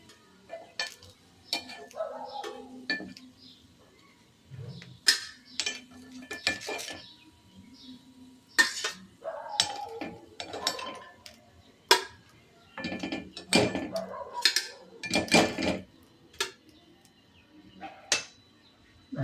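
Cooked paddu being lifted out of the pan, with metal utensils clinking and scraping in irregular bursts separated by short quiet gaps, close and crisp throughout.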